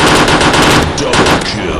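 Rapid automatic gunfire bursts loud and close in a first-person shooter video game, continuous rattling shots filling the moment.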